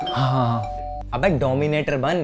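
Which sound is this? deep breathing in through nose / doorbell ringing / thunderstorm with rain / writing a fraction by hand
doorbell ringing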